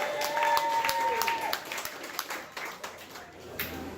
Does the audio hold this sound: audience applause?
yes